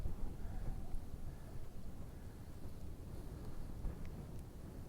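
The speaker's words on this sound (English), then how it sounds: "Well, it's pretty windy up here, so hopefully you can hear me okay." Strong wind on a mountain ridge along the Pacific Crest Trail buffets the microphone with low, rumbling gusts that rise and fall continuously, with no voice heard.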